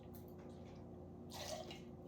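Three-quarters of an ounce of lemon juice poured into a lemon basil cocktail: a quiet, brief liquid splash and trickle, heard alone.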